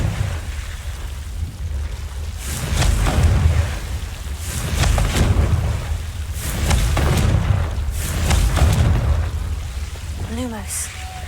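Confringo fire spell explosions in the video game Hogwarts Legacy: four booming, crackling bursts roughly every two to three seconds over a steady rumbling bed, ending with a brief rising, wavering tone.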